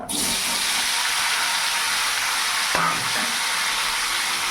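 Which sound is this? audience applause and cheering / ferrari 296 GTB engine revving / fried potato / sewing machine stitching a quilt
fried potato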